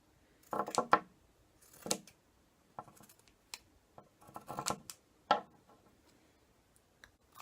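Scissors cutting a narrow strand from a T-shirt, heard as a series of short, crisp snips and clicks spaced irregularly with quiet gaps between, close and fairly soft, with no talking.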